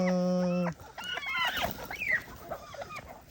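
A brief tonal honk, then several chickens and turkeys clucking and gobbling nearby, quick irregular calls with no talking.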